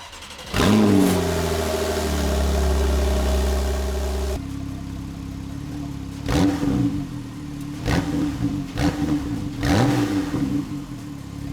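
Porsche 911 991.2 Carrera GTS cabriolet engine, a loud sustained rev followed by idle and a series of sharp repeated throttle blips, close and alone.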